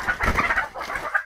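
Caged chickens on a poultry farm cluck in quick, agitated bursts, several birds close by calling over one another for about a second before fading out.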